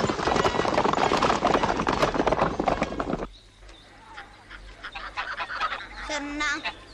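Horses gallop with rapid clip-clop hooves under a dense, loud din in a 1993 Romanian outlaw film, then cut to quieter ambience with birdlike honks and squawks.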